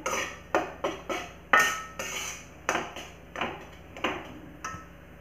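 Wheat flour for atta halwa being pressed and fried in a pan, about a dozen rhythmic scraping knocks of a spatula against metal, evenly spaced and moderately close.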